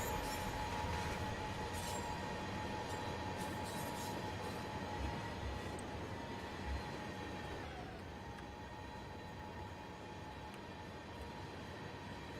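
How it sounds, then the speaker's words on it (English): A simulated train on the Mt Shasta Railway in Train Sim World 2022 rumbles past with a steady rolling roar, a sustained tonal whine and occasional clanks, moderately loud and continuous with no talk. "Lots of train."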